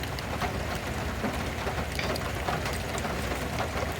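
Steady light rain patters on a surface, a constant soft hiss with scattered drops, fairly close and without talk.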